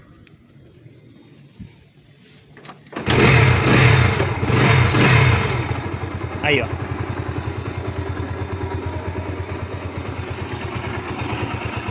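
A Yamaha YBR Factor 125 motorcycle with a kick start and a homemade ignition blocker is started. After a quiet lead-in, the engine catches and revs loudly, then settles into a steady, close idle while someone speaks briefly.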